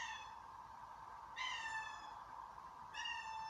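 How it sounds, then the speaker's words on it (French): Two drawn-out cat meows, a few seconds apart, fairly faint over a steady engine hum. "Si vous entendez miauler, c'est normal, c'est mon chat."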